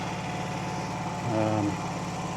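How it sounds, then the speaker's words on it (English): A sawmill generator runs on auto idle with a steady, moderate engine hum and a brief tonal rise in the middle, heard amid light background noise. "Now, how's the generator sounding over there? It's on auto idle."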